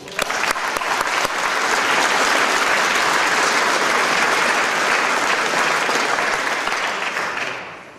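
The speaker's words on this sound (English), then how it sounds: "Let's have a round of applause." Audience applause for a finalist at the 2010 Plain English Champion awards: a dense, steady round of clapping from a sizeable indoor crowd that swells quickly, holds for several seconds, then tapers off near the end.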